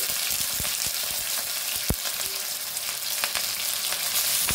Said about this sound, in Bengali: এই তেলে প্রথম আমি যেটুকুনি চিকেন করব সেই চিকেনগুলোকে আগে ভালো করে ভেজে নেব।